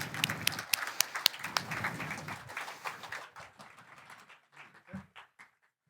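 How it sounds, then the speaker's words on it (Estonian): Scattered applause from a small crowd at a student event's closing ceremony, fading into a few lingering claps and taps. "Teeme suure aplausi!"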